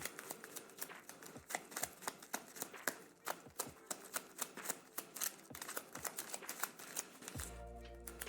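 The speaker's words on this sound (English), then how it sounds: "Give my discard a shuffle." Playing cards from a discard pile riffled and shuffled in a Paperback deck-building card game, a close, quiet run of rapid crisp snaps and flutters for several seconds, ending with a brief low thump.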